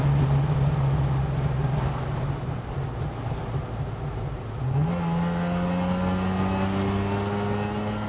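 A rotary-engined car accelerates, its smooth buzzing engine note holding steady and then climbing in pitch as it pulls hard through a gear, heard from inside the cabin with no talking.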